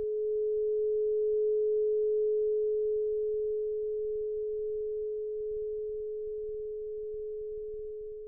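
A pure, steady sine tone of about 211 Hz, roughly an A flat, derived from a planet's orbit, held alone at constant pitch and fading slightly in loudness toward the end.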